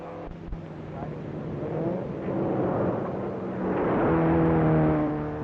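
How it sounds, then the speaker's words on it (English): Grand Prix race cars speed over dusty roads near Bath, New South Wales, their engines whirring and climbing in pitch as they pass, with a narrating voice over the engine noise. "Motoring like this at speeds up to and over 120 miles per hour demands extraordinary endurance from roaring engine and skidding wheels."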